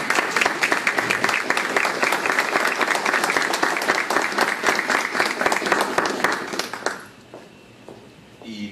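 Audience applause at an academic ceremony in a Querétaro research centre, steady dense clapping from a crowd for about seven seconds before it abruptly dies away into quiet room tone.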